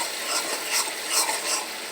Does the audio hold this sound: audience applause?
no